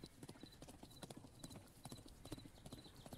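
A group of horses gallop in the strategy game Thronefall, their hooves clip-clopping in a quick, busy patter that keeps up throughout, faint and steady with no talking.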